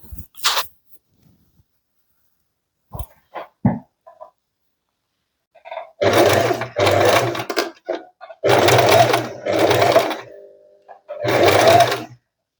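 A sewing machine sets a small-length back stitch through wadding, starting with a few brief clicks, then running in short loud whirring bursts with short pauses between them.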